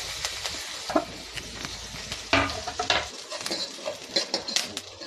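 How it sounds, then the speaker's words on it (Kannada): Green chillies and curry leaves drop into hot oil with popping mustard and cumin seeds for a sambar tempering, giving close sizzling bursts, crackles and spoon clinks against the pan. "ಹಸಿಮೆಣ್ಸಿಗೆ ಹಾಕ್ತಾಯಿದ್ದೀನಿ ಕರ್ಬೇವಿನ ಸೊಪ್ಪು ಹಾಕ್ತಾಯಿದ್ದೀನಿ"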